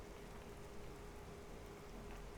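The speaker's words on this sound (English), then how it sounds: "Even when it rains, it looks good." Steady, soft rainfall in the fantasy role-playing game Oblivion, a continuous even hiss with no break or voice over it.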